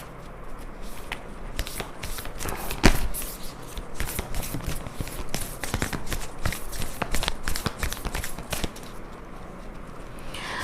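Oracle cards for a tarot reading being shuffled by hand, a steady stream of soft riffling slaps and flicks over about ten seconds, close and fairly quiet with no talking.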